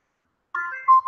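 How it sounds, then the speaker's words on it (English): Electronic beeping in the background of a room, a brief tonal ringtone-like chirp followed by a steadier beep, fairly loud against silence, with no speech. "Sorry about the beeping in the background."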